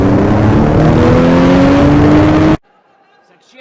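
A car engine revving as a sports-car sound effect, a loud sustained roar with rising pitch that cuts off abruptly after about two and a half seconds, leaving near silence.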